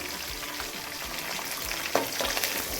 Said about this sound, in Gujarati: હવે આને બધાને સરસ હલાવી અને મરચાંને તળાવવા દઈશું